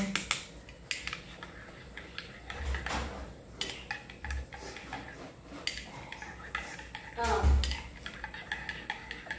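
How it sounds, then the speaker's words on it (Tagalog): A spoon stirs milk in a cup or pot, giving soft scattered clinks and scrapes at low level, with light household noise around it. "Haluin mo yung gatas."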